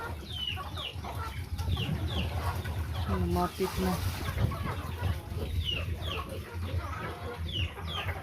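Chickens cluck and chirp repeatedly at close range, with a person talking briefly in the middle and steady background noise.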